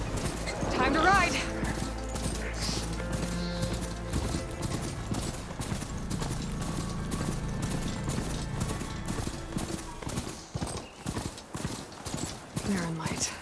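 A mount's hooves clop in a steady, even gallop in Horizon Forbidden West, close and clear, with a brief whinny at the start and someone speaking over the ride.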